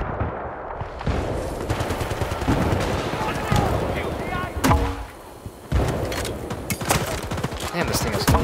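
Rapid gunfire and explosive bursts fill a video game battle with a grenade launcher and mortars, dense and loud with repeated sharp blasts, a brief lull midway, and a voice talking over the action.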